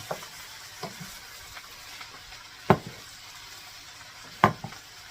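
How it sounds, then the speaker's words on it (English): Cabbage and kielbasa frying in a skillet for a one-pot meal with potatoes, a soft continuous sizzle with light stirring taps and two louder spoon-against-pan clanks, close and with no talking. "Make sure you get that mixed in really good, because that cabbage needs to feel that heat to be able to dwindle down"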